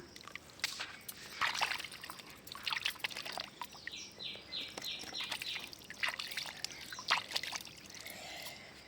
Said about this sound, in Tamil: அப்படியே எல்லா காய்களையுமே அலசிக்கலாம்.